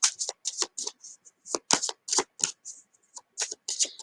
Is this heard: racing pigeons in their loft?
no